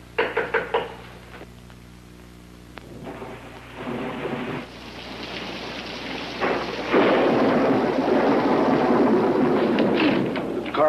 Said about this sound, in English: We got caught in the storm.